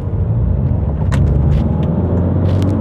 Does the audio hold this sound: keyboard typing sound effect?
no